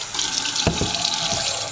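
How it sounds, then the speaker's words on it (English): Tap water runs into a glass jar, a steady close splashing rush with a couple of brief clunks partway through. "is I'm going to fill that up with a little bit of water."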